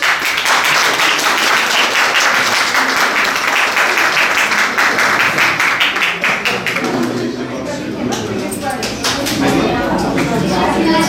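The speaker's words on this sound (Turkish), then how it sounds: "Sıkı bir alkış." Wedding guests burst into loud, sustained applause, dense clapping filling the room before thinning toward the end into sharper, separate claps mixed with chatter and background sounds.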